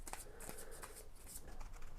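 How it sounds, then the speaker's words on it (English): Reference cards from the Unmatched board game are shuffled up close in quick, crisp, papery riffles and flicks that repeat rapidly in a quiet room. "you could shuffle these up"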